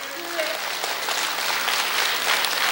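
Congregation applause at a Korean Sunday worship service, a diffuse, even wash of clapping heard at moderate level, with a voice and faint tonal sounds mixed in near the start.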